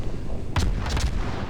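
Ship guns of the destroyer USS Farragut firing in the naval game World of Warships: a cluster of loud, booming gun blasts in quick succession over a steady engine-like background rumble.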